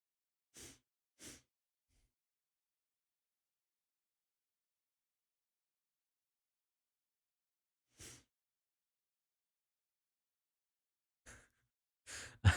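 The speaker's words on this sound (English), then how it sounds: "I apologize if you can hear sniffing." Short nasal sniffs recorded close on a microphone with a weak noise gate, a few quick isolated bursts separated by long stretches of silence.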